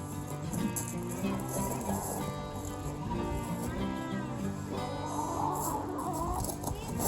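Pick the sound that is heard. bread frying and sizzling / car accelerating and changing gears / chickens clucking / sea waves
chickens clucking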